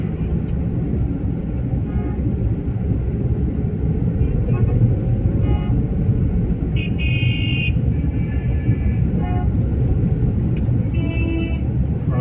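Heavy traffic crawls along the Nile Corniche in Cairo as a dense, steady roar of nearby engines, broken by several car horn honks, including a longer blast midway and more toots near the end.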